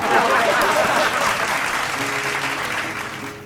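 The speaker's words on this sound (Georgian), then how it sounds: "ძალიან საჭირო ტაში იყო." A studio audience at a Georgian TV comedy talk show breaks into sustained, dense applause that fades slightly toward the end.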